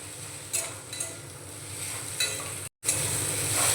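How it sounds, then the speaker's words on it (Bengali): Grated boiled potato being stirred with vegetables in a frying pan, a soft continuous sizzle under occasional scraping and light clinks of the utensil against the pan, with a brief gap near the end. "আলুটাকেও আমি 2 মিনিট মতো সবজির সঙ্গে নাড়াচাড়া করে নিলাম।"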